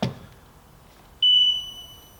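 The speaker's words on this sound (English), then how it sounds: "Hear the sonar ping, so it's looking for the smoke alarms." A Lifesaver LIF10YPEW wireless smoke alarm sends out a network-search sonar ping: a single clear, sustained electronic tone that rings out and decays, preceded by a brief soft knock, with no talk.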